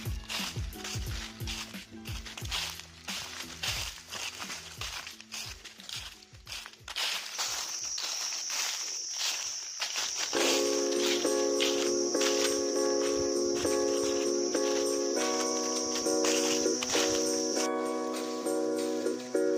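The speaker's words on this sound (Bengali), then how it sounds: "শব্দ বলতে ঝিঝি পোকার ডাক, অজানা কিছু পাখির ডাক আর শুকনো পাতার মর্মর শব্দ।" Forest at Remakalenga wildlife sanctuary in Bangladesh: rustling dry leaves and footsteps early, then steady shrill insect chirring joined by a sustained high buzzing tone, continuous and fairly close, with no talk.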